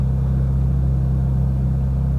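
A flat-plane crank V8 engine idles low and steady with a smooth, even rumble and no revving, close by and continuous.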